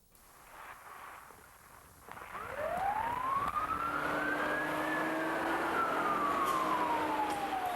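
A siren wails up in pitch and holds a long rising-and-falling tone, loud and steady over traffic rumble, after a quieter start.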